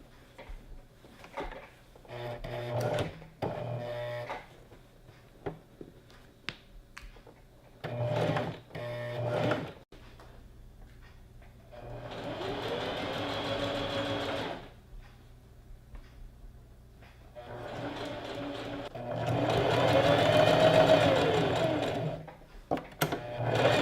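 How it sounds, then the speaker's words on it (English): A sewing machine runs a straight seam down a skirt beside a zipper in several bursts of steady, close whirring, separated by clicks and handling noises. "we're just going to sew in a straight line all the way down, and we'll do both sides"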